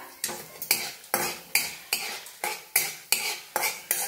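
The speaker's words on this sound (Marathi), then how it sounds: "केसर घेतले बघा, ती भी भाजून घेऊया" Saffron and whole spices are dry-roasted in a pan, stirred with a metal spoon that scrapes and knocks about twice a second in a steady rhythm, close and fairly loud, with faint crackling between strokes.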